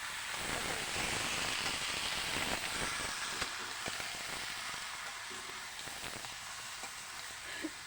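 Steady close-up sizzling of chicken frying in hot oil, a dense crackling hiss with occasional sharper pops, no voices.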